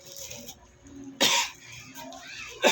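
Two sharp, close coughs about a second apart, separated by quiet background and faint murmuring.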